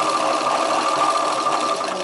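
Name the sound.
sewing machine stitching chudidar sleeve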